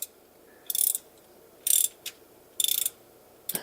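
A ratchet loosens the transmission drain plug on a 2010–2019 Ford Taurus V6, giving four short bursts of rapid clicking with quiet pauses between them and a final brief click.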